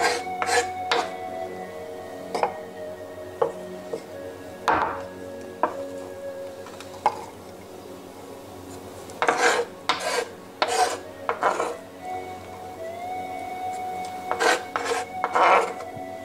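A knife chops onion, garlic and parsley on a board for an almond sauce, with scattered crisp cuts and short rapid bursts separated by quiet pauses.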